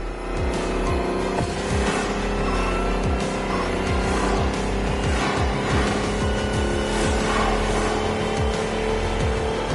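A Lotus electric car races off-road in a video game, its motor a steady high whine over continuous rumbling, gravel-and-tire noise and repeated thumps from rough ground, loud and close throughout with no talk.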